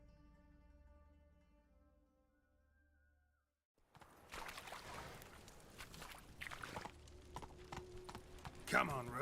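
Horse Roach trotting with rhythmic hoof clip-clop in The Witcher 3, beginning partway through after a quiet musical passage, steady and fairly close, with a voice speaking over it.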